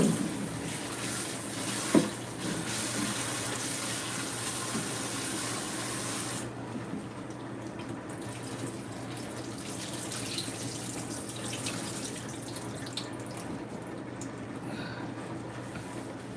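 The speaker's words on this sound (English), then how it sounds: "I'm giving the bitter melon a rinse" Bitter melons are rinsed under a running tap in a sink, a steady close splash with a faint knock near the start. The water grows quieter and duller partway through.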